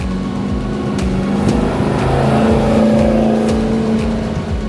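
A Santorini Black Land Rover Defender 110 fitted with a 6.2-litre LT1 V8 and 10-speed automatic, its engine rumbling loud and close with a deep, steady drone that swells slightly as it revs.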